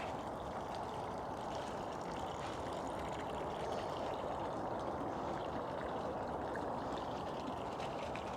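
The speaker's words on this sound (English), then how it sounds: "there's another little drain here," Water trickles steadily into a small drain on a hillside in the English countryside during autumn, a soft continuous flow at low level with no voices.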